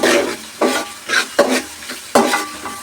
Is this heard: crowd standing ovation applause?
no